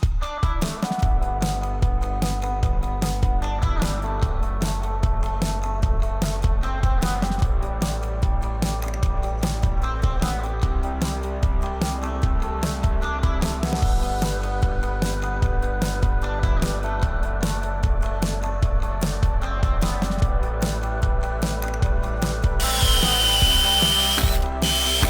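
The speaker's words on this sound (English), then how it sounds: "I'm gonna let the screw put the hole in the joist tape." A drill drives screws through deck boards and joist tape, whirring and ratcheting in repeated close bursts with short pauses between them, steady and loud for the whole stretch.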